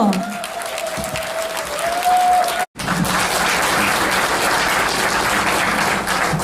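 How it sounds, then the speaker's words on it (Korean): Audience at a politician's book launch event applauds to welcome the speaker. A faint steady tone and quiet room sound come first, then after a short gap a thick, loud burst of many hands clapping carries on steadily. "박수로 환영해 주십시오."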